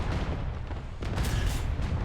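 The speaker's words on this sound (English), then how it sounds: "I'm just ricocheting shots of that plate." Video game gunfire with shots ricocheting off a metal plate, a dense, muffled barrage of booming shots and rumbling impacts heard at moderate volume.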